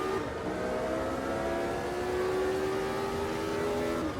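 A 1983 Formula 1 car in a racing video game, driven at Hockenheim to warm its tyres: a steady, droning engine note that rises slowly in pitch with continuous road noise, no talking.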